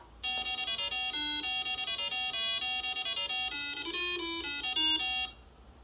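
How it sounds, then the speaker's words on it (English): Pac-Man game music from an Apple II Plus computer: a bright, beepy square-wave melody of quick, evenly stepped notes playing for about five seconds, then stopping abruptly, with no talking over it. "Press return to play and you'll get to hear the music on this Pac-Man for the Apple II Plus"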